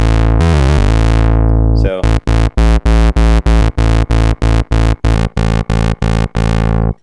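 A loud, buzzy synthesizer tone from the Native Instruments Monark sweeps briefly, then pulses in rapid even on-off bursts while its pulse width changes and the timbre gradually shifts.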